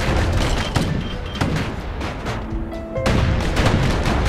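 Gunfire in the video game Bastion: rapid, loud bursts of shots and booming impacts in irregular volleys, with a brief lull before the barrage resumes heavily.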